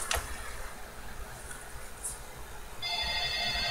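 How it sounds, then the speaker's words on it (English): A telephone rings at a watchmaker's bench during assembly of a Poljot 2614.2H movement, its repeated electronic trill starting near the end and continuing steadily at moderate volume, with no talk. "Oh, the phone's ringing."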